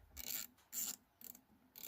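A ratchet with a 10mm socket drives a 6mm bolt on a Peugeot 505 door, giving four short bursts of close, crisp clicking separated by brief pauses, with no talk.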